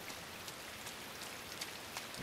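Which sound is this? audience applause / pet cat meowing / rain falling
rain falling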